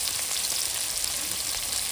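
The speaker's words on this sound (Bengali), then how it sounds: "পেঁয়াজটা ভালো করে গোল্ডেন ব্রাউন করে ভেজে নেবে।" Chopped onions frying in oil after a cumin tempering, a dense, continuous close sizzle with an even crackle throughout and no talking.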